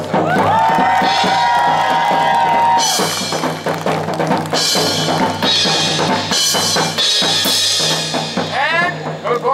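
An audience cheers and whoops loudly for James, a trombonist playing double sackbut at a Renaissance faire performance, over band music and a voice addressing the crowd.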